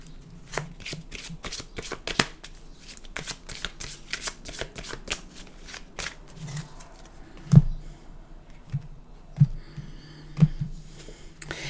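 A deck of animal oracle cards being shuffled close up, with rapid papery riffles and flicks in uneven bursts, then slower soft taps and a few sharper card snaps.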